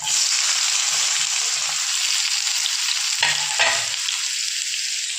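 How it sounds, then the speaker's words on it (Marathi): Chopped onion, garlic and cumin fry in hot oil, a loud continuous close sizzle with a brief stirring break partway through. "आता छान आपल्याला कांद्याला गुलाबी रंग येईपर्यंत छान आपल्याला परतून घ्यायचा आहे"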